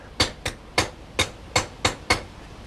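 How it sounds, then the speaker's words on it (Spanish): A hammer strikes a horseshoe being fitted to an ox's hoof, seven sharp metallic blows in an uneven rhythm, close and clear with nothing else heard. "Ahora dejo el pujabante y cojo el martillo y el callo."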